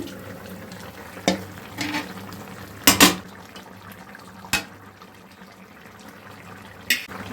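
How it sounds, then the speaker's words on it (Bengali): A lid is lifted off a pot of mixed fish curry with taro, giving a few sharp metallic clanks over a low simmering bubble, the loudest pair of knocks coming close together in the middle. "এবার আমি ঢাকনাটা খুলছি।"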